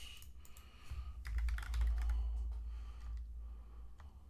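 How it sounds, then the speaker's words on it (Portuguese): Fingers tap a computer keyboard in quick irregular bursts of clicky keystrokes, close to the mic over a low background rumble, with no speech. "Tô digitando errado?"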